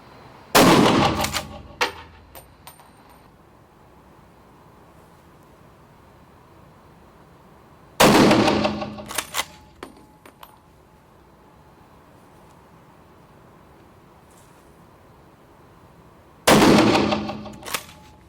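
Three loud gunshots fire several seconds apart during indoor hunting at Holland & Holland's Schiesskino shooting cinema, each a sharp crack with a brief echoing tail in a quiet room.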